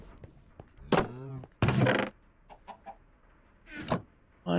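A Minecraft chicken clucks in short bursts, several close clucks rising and falling between stretches of quiet game sound, with a little talk mixed in.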